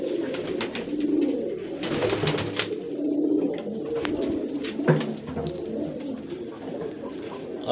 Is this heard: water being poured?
no